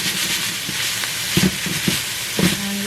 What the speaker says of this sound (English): like to cook my onions down just a little bit before I add my celery